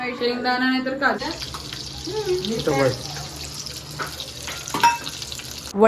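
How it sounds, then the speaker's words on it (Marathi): Potato bhaji fritters drop into hot oil, a bubbling, hissing fry running underneath several people talking close by, with a few brief clatters. "आता मस्त बटाटा भजी जातीये तेलात"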